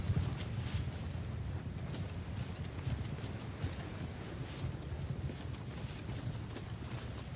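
Horses' hooves clip-clop continuously in the Old Realms medieval battle game, a quiet, steady stream of overlapping hoofbeats with no voices.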